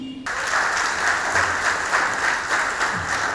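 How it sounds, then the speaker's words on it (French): A studio audience on a French-language programme breaks into applause after a brief voice, a sustained even roar of clapping at close range that stays strong to the end. "j'aimerais encore une fois demander d'applaudir"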